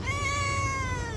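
A hungry stray cat gives one drawn-out, clear meow, close and fairly quiet, with no voices during the call.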